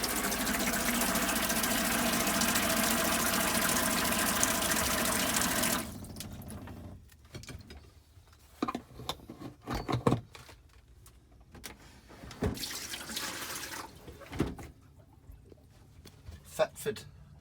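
The hot water tap runs in a steady loud gush inside a 2002 Peugeot Boxer Autosleeper motorhome, then cuts off, leaving scattered knocks and handling noises while someone speaks.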